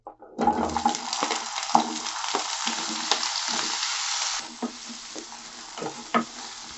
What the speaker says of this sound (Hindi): इसी में आलू फ्राई कर लेंगे